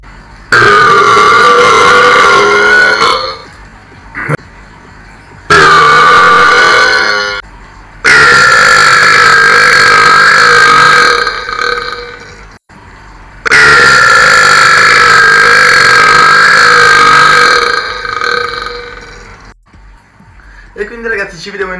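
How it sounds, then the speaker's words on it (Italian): Loud, close burps in a burping contest: several long, sustained belches come in separate bursts with short quiet gaps between them. "adesso tiriamo degli ultimi rutti"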